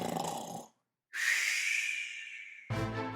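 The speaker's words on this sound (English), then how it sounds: "He started to snore." A wolf snores in a told Little Red Riding Hood story, heard as a long drawn-out rasping inhale that follows a short breathy snort, then is cut off by a voiced tail.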